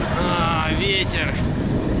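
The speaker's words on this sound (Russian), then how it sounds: "Ветер." Strong wind buffets the microphone in a loud, continuous roar during a long-distance bicycle trip, with a brief voice and whistling tones over it.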